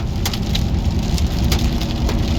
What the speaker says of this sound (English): And there's the hail.